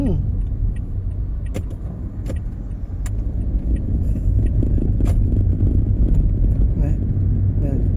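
A car speeds along a road in Chiang Mai before dawn, a loud, close, steady engine and tyre rumble that swells toward the end.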